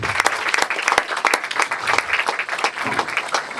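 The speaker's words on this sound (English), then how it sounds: "Please, a big round of applause." An audience at a seminar claps steadily, a lively burst of many hands close by with sharp individual claps throughout, no talking over it.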